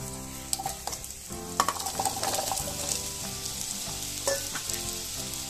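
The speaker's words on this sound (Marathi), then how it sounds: "आपण हे सगळे काप त्या तुपामध्ये टाकून घेऊ." Sweet potato slices fry in hot ghee with a steady, close sizzle and crackle that runs throughout, with occasional scraping as the pieces are moved around the pan.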